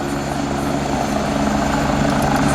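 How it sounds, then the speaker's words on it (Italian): A Vigili del Fuoco fire brigade helicopter flies a holding circuit at the 2019 Jesolo Air Show, its rotor and engine making a loud, steady, close drone with a pulsing throb that never lets up. "l'elicottero farà un circuito di attesa e si riposizionerà per il recupero"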